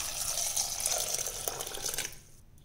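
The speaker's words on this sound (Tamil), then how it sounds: "இப்போ இதில் வந்து தேவையான அளவுக்கு தண்ணி விட்டுக்கலாம்." Water is poured into a pot of sambar being cooked, a steady splashing, trickling stream that runs close and fairly loud for about two seconds before cutting off into quiet.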